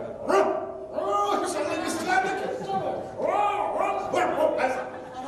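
A hunting dog in a stage play gives a run of loud, close bow-wow barks in several bursts, with voices chattering around them.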